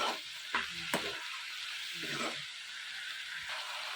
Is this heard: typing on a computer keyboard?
no